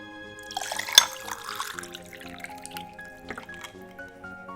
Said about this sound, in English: And I get some flat water.